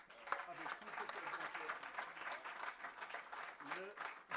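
An audience at a panel event on international mobility applauds, a dense steady patter of clapping from a crowd lasting throughout, with speech audible beneath it.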